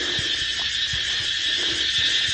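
A cricket on a beach at Koh Tao, Thailand, shrills in a loud, steady, unbroken high-pitched drone that fills the whole stretch, close and dominant, with no voices.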